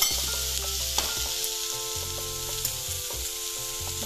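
Spices, cumin powder and red chilli among them, mixed and fried on a low flame for aloo gobi, producing a loud steady sizzle with soft stirring scrapes and faint tonal hum underneath.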